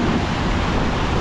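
Ocean waves at a beach where children are swimming, a steady, loud wash of surf and wind noise filling the short moment with no talk.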